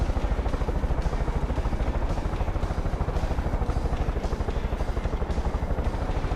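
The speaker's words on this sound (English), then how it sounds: "I think I hear another plane or something." A steady, loud engine drone of an aircraft flying in the Star Citizen video game, with a fast regular pulsing beat like rotor chop, continuous throughout without speech.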